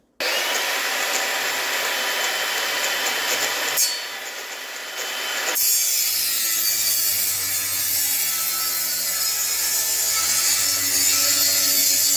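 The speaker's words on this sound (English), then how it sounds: "Gotta love hanging on to these old Makita drills, these old electric ones." An old corded Makita electric drill runs steadily with a high whining buzz, shifting pitch partway through as it loads up and then settling into a louder, rougher grinding drone with no talking.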